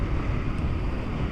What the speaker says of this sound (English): It's really windy, that's for sure.